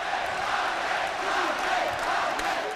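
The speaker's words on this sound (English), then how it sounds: "Italian crowd going wild" An Italian crowd at a kickboxing fight roars loudly and without a break. The dense cheering and shouting fills the whole moment.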